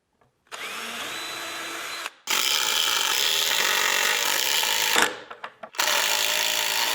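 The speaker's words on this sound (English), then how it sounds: "I'm going to drill some pilot holes and then attach the swivel with some screws" A power drill bores pilot holes into a homemade wooden speed-bag platform board, running in steady loud whirring bursts with brief pauses between them.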